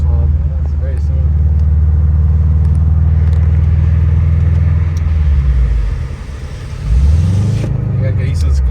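A rebuilt Subaru WRX drives along with a steady, close engine rumble and road noise. The engine dips briefly as the clutch shifts, then the revs rise again, and a voice talks over it.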